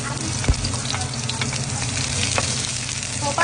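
Onion frying in oil for adobo, a steady close sizzle with crackling throughout and one brief thump near the start, no talk.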